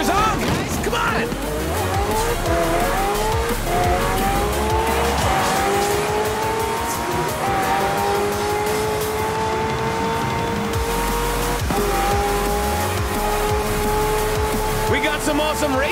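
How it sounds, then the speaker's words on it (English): Racing trucks and hypercars speed through a street race in a video game, with engines droning steadily and tires squealing as they pass, under continuous talk. "Some awesome racing trucks out there"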